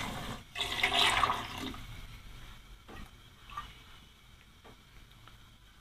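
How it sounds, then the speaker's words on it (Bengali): About two cups of water poured into a cooking pot of duck curry with eggplant, a brief near splashing pour lasting about a second, then quiet kitchen clatter and faint knocks. "আমি এখানে 2 কাপ মতো পানি দিব।"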